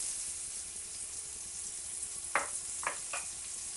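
Onions go into a hot pan with a little oil left in it for Moroccan lamb meatballs, giving a soft continuous sizzle with a few brief clinks and stirring scrapes near the end.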